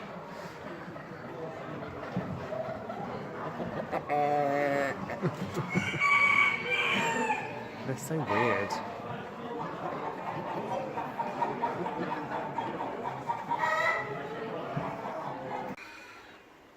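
Roosters crow loudly several times amid clucking hens, with a person speaking briefly over the birds.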